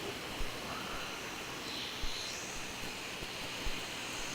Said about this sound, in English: I can hear the 320 roll slowing down